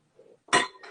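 Utensil clinks against a bowl while dry ingredients for sheet-pan banana bread with chocolate chips are mixed, one sharp close clatter followed by a lighter scrape, with no talking.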